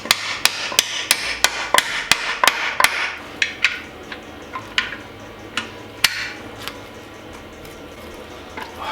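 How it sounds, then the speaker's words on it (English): Hammering out differential bolts on an Escort Cosworth rear beam: a rapid series of sharp metallic blows, close and loud at first, then slower, spaced strikes fading toward the end. "We'll have to hammer that on, it's full of shunts."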